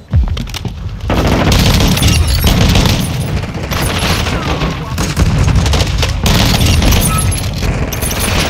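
A grenade blast in Call of Duty MWII multiplayer lands as a heavy boom, followed by sustained loud gunfire and crashing combat noise.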